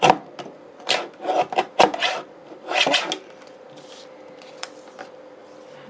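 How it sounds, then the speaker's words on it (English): Excess book page paper is trimmed off a spring journal: several quick, close scraping strokes come in a rough rhythm over the first few seconds, then only a faint steady hum remains. "And it will just trim off that bit of excess book page that I don't need on the side there."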